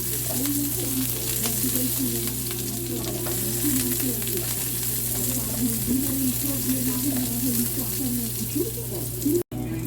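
Onion sizzles in a frying pan while pork kaldereta is being cooked, making a steady, close crackle with faint stirring, and it cuts off abruptly just before the end.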